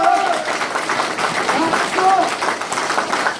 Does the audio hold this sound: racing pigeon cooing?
no